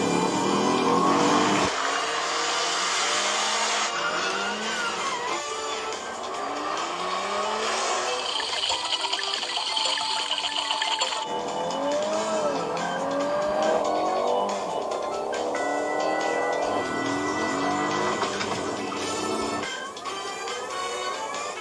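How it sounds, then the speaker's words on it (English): A supercharged car engine revs and races continuously, its pitch rising and falling through gear changes, with tire squeal and skidding layered over a steady loud roar. "Kane fitted a supercharger to her engine, so she should make more power. Yeah, I've got a good sound as well."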